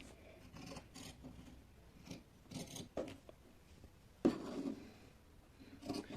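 Scissors snip through blouse fabric along the stitching margin in a series of soft, close cuts with irregular gaps and one sharper snip partway through, no voices.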